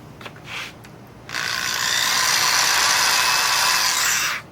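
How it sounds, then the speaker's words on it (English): A power drill fitted with a Forstner bit cuts a plug out of a 1956 6120 guitar during a neck reset. After a few faint clicks, a close, steady whirring drone runs for about three seconds, then stops abruptly, with no speech. "The Forstner bit."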